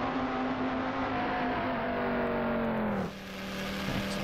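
Benetton B195 Formula One car engine in Assetto Corsa, a loud sustained high-pitched wail with steady pitch that drops sharply near the end as the car slows, heard alone.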